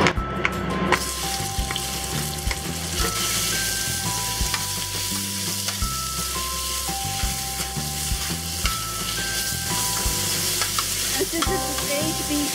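Oil sizzles in a hot wok at medium-high heat before beef goes in, a steady, loud frying hiss with some stirring and scraping. Background music plays under the sizzle throughout.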